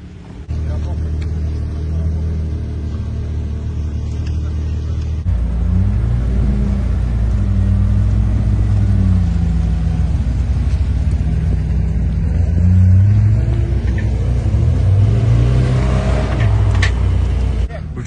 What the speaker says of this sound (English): So the peaceful lake has been disrupted slightly by this Zonda Cinque.